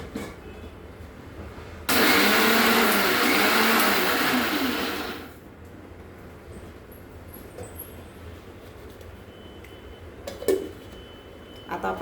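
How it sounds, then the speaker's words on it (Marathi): A kitchen mixer grinds poha, dal and semolina for rava besan chakli, a loud whirring roar lasting about three seconds before cutting off, followed by quiet handling sounds. "आपण आता हे रवा सर्व तिन्ही साहित्य जे आहे ते आपण मिक्सरला काढून घेऊ।"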